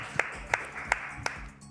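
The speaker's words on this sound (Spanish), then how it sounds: "¡Aplauso!" Hands clapping four times at an even, slow rhythm, each clap sharp and distinct but quiet and thin, with faint background noise between them.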